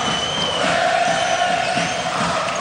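A Hapoel Tel Aviv basketball crowd cheers steadily through a game, a dense roar of massed voices with shouts rising and falling, continuous and fairly loud throughout.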